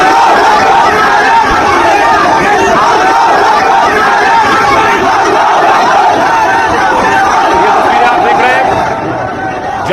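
A mob shouts angrily while dragging a man's body through the street, a loud, continuous roar of many voices yelling together, close and unbroken, easing slightly only in the final moment.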